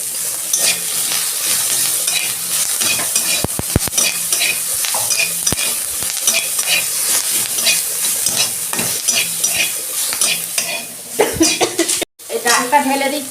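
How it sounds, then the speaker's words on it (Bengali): Curry leaves hit hot oil for a vegetable dal, giving a steady loud sizzle with frequent stirring scrapes and a few sharp clacks, and a brief burst of speech near the end. "কারি পাতা দিচ্ছি"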